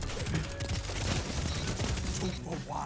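A pulse rifle fires in a video game, producing a dense, continuous stream of rapid shots and impacts, loud and close, mixed with other battle noise.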